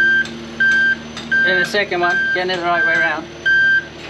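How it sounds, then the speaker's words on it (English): Warning beeps from a moving boat lift in a boatyard sound as repeated short steady electronic tones, roughly every half second to second, with someone talking over them at close range. "Sorry about the noise in the background, but there's a boat lift moving around."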